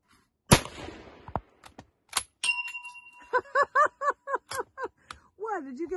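A single sharp rifle shot from a 1912 Carl Gustafs Swedish sporter rings a steel bell target, followed by excited voices chattering close by.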